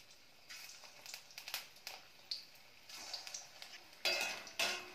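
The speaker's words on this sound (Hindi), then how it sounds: "अब इसमें कोफ्ते डालेंगे और इन्हें फ्राई करेंगे।" Lotus stem koftas fry in hot oil over medium heat, a soft crackling sizzle joined by intermittent clinks of a utensil against the pan, growing louder toward the end.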